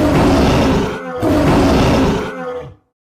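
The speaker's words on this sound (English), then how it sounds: "What does the tiger say?" A tiger gives two loud, close roars, each deep and rasping, separated by a short pause and then cut off into silence.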